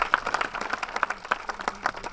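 Audience at a pre-screening meeting for the film Celle que vous croyez claps for someone in a short burst, with irregular individual claps near and clear, no talking over it.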